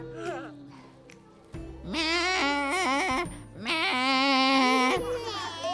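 A child imitates a goat with voiced, wavering bleats, two longer quavering cries after a brief opening call, close and fairly loud.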